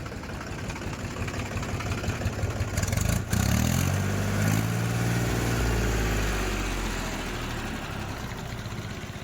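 A 2007 Mahindra B 275 tractor in good condition, fitted with a box and hook, idles steadily with a low, knocking diesel rumble and a brief bump in engine pitch midway.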